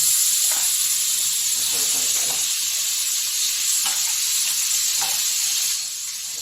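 Pork frying in hot oil, a loud, continuous close-up sizzle and hiss that holds steady throughout and eases slightly at the very end.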